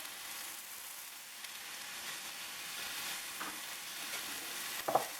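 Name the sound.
seasoned beef searing in a pan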